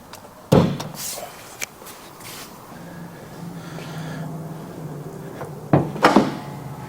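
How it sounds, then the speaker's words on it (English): The hood of a Mazda car is opened. A sharp latch clunk near the start and a couple of clunks toward the end are heard, with low rustling and faint handling in between. "the first thing we're going to go ahead and do is open the hood."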